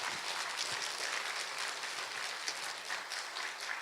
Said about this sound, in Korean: 하나님 앞에 감사하는 자들은 손뼉으로 영광 한번 돌려보세요